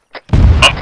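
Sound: explosion from engaging a StuG with a Pak 40 in a video game

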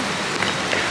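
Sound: rain starting to fall

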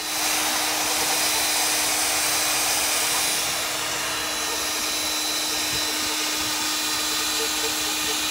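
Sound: magnetic drill (CS Unitec mag drill) drilling a Boeing 747

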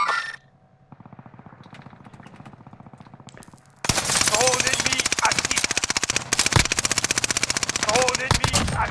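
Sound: gunfire in the video game Call of Duty Warzone Fortune's Keep

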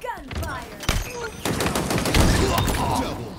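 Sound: gunfire in the video game Halo Infinite

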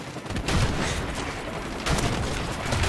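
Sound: shotgun fire in Call of Duty 4: Modern Warfare Remastered video game

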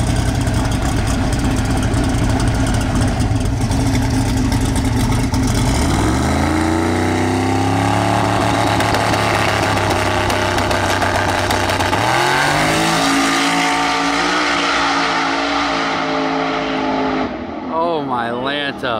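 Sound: Mullet's 9.3L SMX big block race car making its pass

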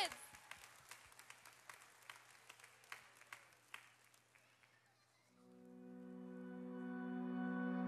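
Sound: congregation cheering and applauding for kids

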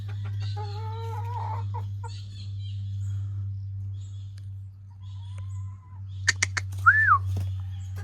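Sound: young gamefowl rooster clucking at a game farm

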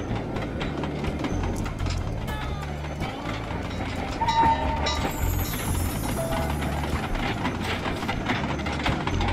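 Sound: train Iron Horse in Sly Cooper 2 video game

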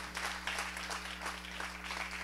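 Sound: church congregation clapping

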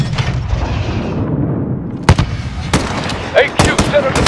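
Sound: gunfire in video game Call of Duty Modern Warfare

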